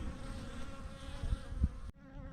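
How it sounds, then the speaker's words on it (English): Honey bees swarm around a healthy hive in a dense, steady buzzing drone close by, with a few wingbeats passing nearer before the sound drops off abruptly. "They're kind of the best bees I have, in my opinion."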